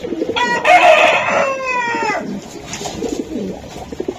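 Racing pigeons call close by: one loud, harmonic call rises and fades over about two seconds, followed by softer, low cooing and fluttery bird sounds.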